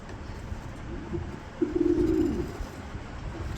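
A pair of black shouking pigeons coos softly, a low brief burst of cooing rising over steady background noise.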